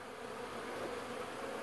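A steady, dense buzzing of many honey bees from colonies in late fall, continuous and fairly close, with no voices.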